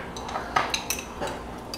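A spoon clinks and scrapes against a dish while garlic and chili are mixed for a butter lobster recipe, with a few short, close taps over a soft background.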